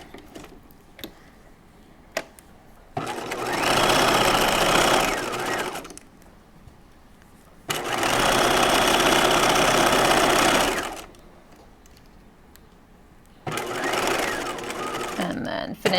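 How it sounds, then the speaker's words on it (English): A sewing machine stitching and back stitching a halter top seam, running in three loud bursts of rapid mechanical whirring separated by pauses in which someone speaks softly. "finishing just at this little corner here and back stitching"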